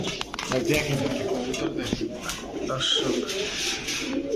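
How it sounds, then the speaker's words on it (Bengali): Pigeons cooing at a pigeon market where military, army, racer and other breeds are sold, repeated throaty coos close by, mixed with people talking. "কি কবুতর ভাই এটা"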